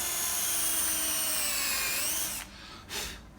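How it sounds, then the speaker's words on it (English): A power drill whines steadily as it countersinks a screw hole in wood, its high pitch sagging slightly under load, then cutting off and briefly spinning up once more, close and clear. "So I made sure to do a countersink right there."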